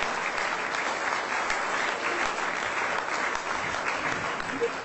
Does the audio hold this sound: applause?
yes